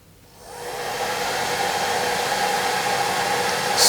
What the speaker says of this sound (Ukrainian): Давайте спробуємо заживити фен на 1800 Вт.